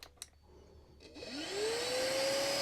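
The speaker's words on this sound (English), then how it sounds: "Obviously you're going to hear the vacuum power up" A Smoture VAC01 cordless vacuum cleaner switches on after a few light clicks, its motor whining up in pitch and settling into a steady, loud whir.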